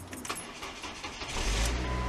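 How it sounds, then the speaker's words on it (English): A car that has been failing to start turns over and fires up, a short crank followed by the engine catching and settling into a low rumble, heard close by. "my car doesn't always start now"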